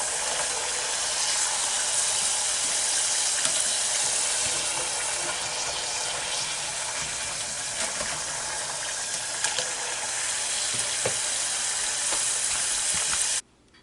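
Ore-Ida extra crispy takeout fries deep-frying in a FryDaddy fryer give a loud, dense, continuous crackling sizzle that holds steady for the whole stretch, with no voices, then cuts off abruptly at the end.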